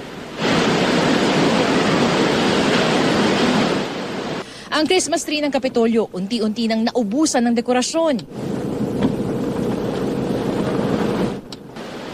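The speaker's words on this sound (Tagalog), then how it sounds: "Ang hangin, mistulang ipo-ipo, galing na sa iba't ibang direksyon." Typhoon Ruby's strong wind in Eastern Samar roars as a loud, steady broadband rush that fills most of the stretch, dropping out while a person speaks in the middle and then returning as a lower, steadier howl.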